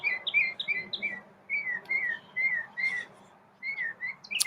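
A pet bird sings alone in a series of bright, repeated whistled chirps, loud and close, coming in phrases with short pauses between them.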